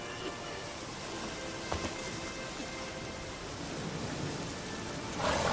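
Steady rainfall in The Witcher 3: Wild Hunt hisses as a constant broadband wash, with a faint distant rumble and a brief surge near the end.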